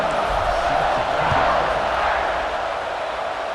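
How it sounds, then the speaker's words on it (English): A stadium crowd roars and murmurs in a constant dense wash, with scattered shouts rising out of it, in EA Sports College Football 26 during a fourth-quarter Notre Dame versus Penn State game after a score. "this crowd is buzzing after that last score"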